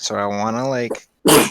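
A single sharp, loud sneeze bursts out right after a short stretch of a person talking, ending the clip abruptly.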